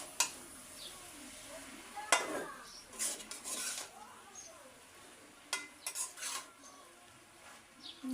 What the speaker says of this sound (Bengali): এবার এটাকে ভালোভাবে নাড়িয়ে চাড়িয়ে মিশিয়ে নেব।